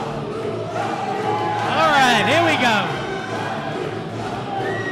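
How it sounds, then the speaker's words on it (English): Wrestling crowd cheering and chanting as Samuray del Sol makes his ring entrance, a loud steady roar swelling in the middle, with a commentator talking over it. "This crowd is coming unglued right now"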